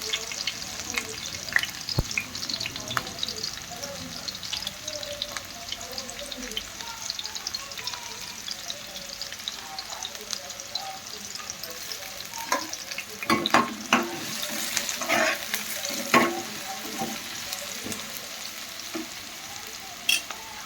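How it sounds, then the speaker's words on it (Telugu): Onion and green chili pieces fry in a pan with a steady, close sizzle, with occasional scraping and stirring clatter that grows busier toward the end. "ఒక రెండు ఉల్లిపాయ ముక్కలు నాలుగు పచ్చిమిర్చి ముక్కలు ఫస్ట్ వేసి ఫ్రై చేసుకోవాలి"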